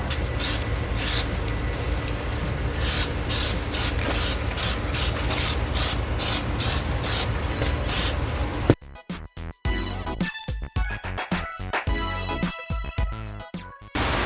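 An aerosol can sprays Plasti Dip rubber coating onto the rear diffuser of a Camaro LT four-cylinder turbo, making repeated close hissing bursts with short gaps, which turn choppier and more broken toward the end.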